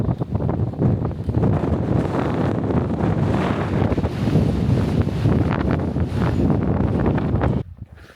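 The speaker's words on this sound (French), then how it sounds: "il y a énormément de vent" Strong wind buffets the microphone on a mountain summit at 2005 m altitude, a loud continuous roar and rumble that drops away abruptly near the end, with no talking.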